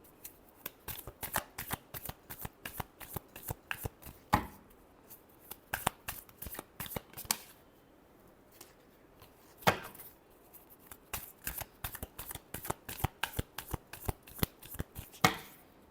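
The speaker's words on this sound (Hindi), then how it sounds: "Last shuffle." Tarot cards are shuffled by hand in quick bursts of crisp riffling and slapping, pausing briefly between rounds, close and moderately quiet with no talk.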